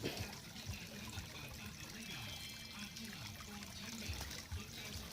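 Water trickles and flows steadily throughout, a continuous splashing wash with low rumbling underneath and some faint voice-like sounds mixed in.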